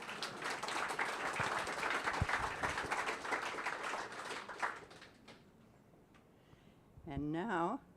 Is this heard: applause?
yes